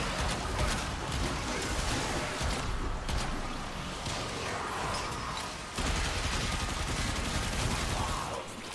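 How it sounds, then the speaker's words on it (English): Coda sniper-machine gun hybrid firing in the Warframe video game: a dense, loud, continuous barrage of rapid shots with a brief dip in intensity partway through, then a sustained run of fire. "The sniper mixed with a machine gun."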